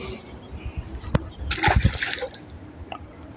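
A catfish released back into a stream at Assiniboine Park sends up a short burst of splashing and sloshing water, a brief loud flurry against quiet outdoor background.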